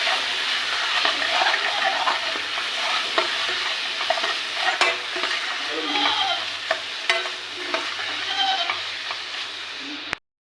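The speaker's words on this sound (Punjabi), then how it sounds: "ਥੋੜੀ ਜੀ ਹਲਦ ਮਿਰਚ ਨਮਕ ਚੰਗੀ ਤਰ੍ਹਾਂ ਮਿਕਸ ਕਰ ਲਾਂਗੇ" A spoon scrapes and stirs food in a hot pan as turmeric, chili and salt are mixed in, a steady close scraping and clinking over a soft sizzle, with no talking.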